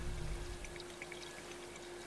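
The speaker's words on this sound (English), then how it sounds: "The helitanker is over the wildfire zone. Get ready for water extraction." Water pours and splashes continuously as a helitanker draws water in Life is Strange 2, a steady rushing stream with scattered droplet plinks over a low hum, moderately loud and with no talking.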